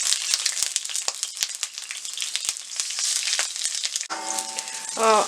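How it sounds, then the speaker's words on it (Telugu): Chopped onion frying in hot oil in a kadai for paneer makhani, a loud continuous close sizzle with crackles, then a short clink near the end. "ఆయిల్ వేడైన తర్వాత ఒక ఆనియన్ కట్ చేసుకొని వేసుకొని ఫ్రై చేసుకోవాలి."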